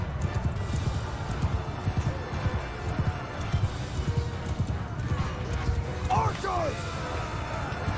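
Cavalry horses galloping in a Mount & Blade 2: Bannerlord battle, a steady dense patter of many hooves thundering throughout, mixed with battle noise and a brief horse whinny near the end, while someone talks over it.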